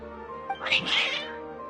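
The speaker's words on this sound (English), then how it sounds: "Your cats seem pretty worked up." Several cats in the video game Genshin Impact meow in an agitated, drawn-out caterwaul, a loud cluster of yowls lasting about a second over a steady background tone.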